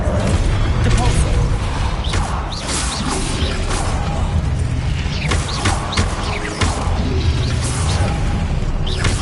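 A Depulso spell cast in Hogwarts Legacy lands as loud booms, crashes and whooshing impacts in a dense, continuous game battle mix, with a voice calling out over it.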